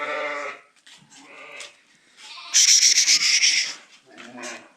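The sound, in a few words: Kyrgyz sheep bleating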